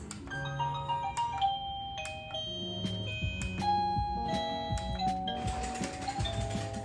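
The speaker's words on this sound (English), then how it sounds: "A lot of traditional doorbells." A series of electronic doorbell chimes from a BISTEE wireless doorbell plays one after another, bright melodic tones ringing out in different traditional and novelty patterns with short pauses between them.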